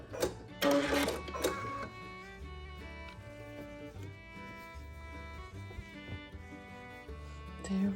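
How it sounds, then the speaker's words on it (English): A sewing machine runs a back stitch at the end of a lettuce edge hem. It gives a short burst of loud mechanical whirring and clatter, then a quieter stretch with a steady tonal hum. "Back stitching, and let's see how we did."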